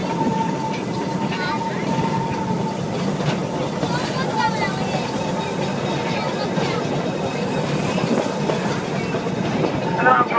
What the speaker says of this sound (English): the engine that's on today's train is number 119. It's a narrow gauge replica of the original engine